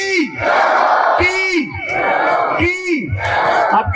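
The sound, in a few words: crowd shouting a devotional cheer for Chainpuri ji Maharaj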